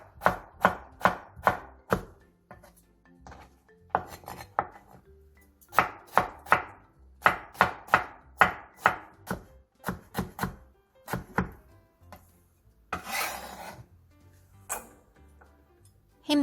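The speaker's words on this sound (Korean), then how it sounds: "자투리 단무지들은 얇게 채 썬 뒤 쫑쫑 썰어 동그랑땡 재료로 써주세요" A knife finely chopping thin-sliced scraps of pickled radish (danmuji) on a board, in quick rhythmic runs of sharp close chops broken by short pauses, with no talking.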